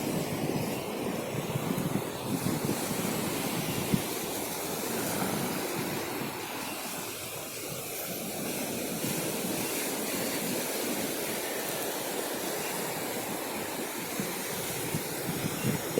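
Sea waves wash onto Gandaria beach in Pariaman with a continuous broad rumbling roar, steady and unbroken at moderate loudness, with no voices.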